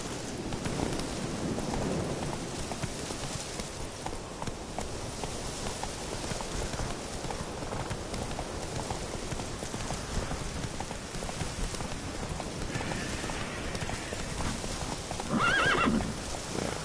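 A horse in the Witcher 3 game world clip-clops along steadily at moderate loudness over a soft rainy backdrop, with a short neigh near the end.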